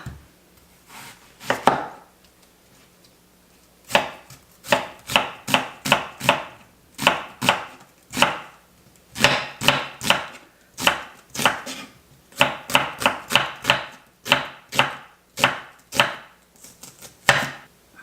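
A knife chops onion on a cutting board for cucumber kimchi, crisp rhythmic strokes in quick runs broken by short pauses, close and clear with no talking.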